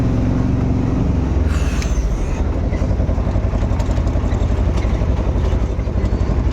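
A loaded tempo goods vehicle packed with household belongings during a house move, heard from on board: a loud, steady engine drone and road rumble close up, continuous throughout.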